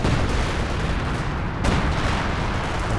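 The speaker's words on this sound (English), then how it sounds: "Artillery from the Major coming down the centre." An artillery barrage in a Company of Heroes 2 2v2 match, with dense, loud rumbling shell fire and blasts throughout and one sharp, close impact standing out midway.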